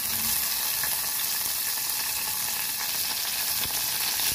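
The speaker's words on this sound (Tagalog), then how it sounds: "Next tayo sa paglagay or paggisa ng ating onion at garlic." Onion, garlic and tomato sauté in a hot pan with a steady, dense sizzle that stays loud and even throughout, with no talking.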